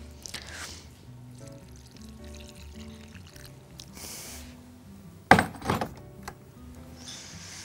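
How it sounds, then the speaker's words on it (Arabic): Boiling water or pasta cooking water is poured into a pan in a home kitchen. A brief, splashy gush rises sharply and then trails off, after quiet clinks and faint background hum. "هحط هنا بقى شوية مية مغلية او مية سلق المكرونة زي ما انتوا عايزين"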